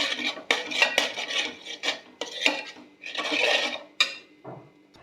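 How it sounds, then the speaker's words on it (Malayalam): Scrambled egg stirred in a pan with turmeric and chili powder, a series of close, rhythmic scraping and rasping spatula strokes against the metal, uneven bursts with short pauses, no voices. "നമ്മളിതിലേക്ക് മഞ്ഞപ്പൊടി മുളക് പൊടിയൊക്കെ ഇട്ടിട്ട് ഒന്നുകൂടെ ഇളക്കി കൊടുക്കാൻ പോവുകയാണ്"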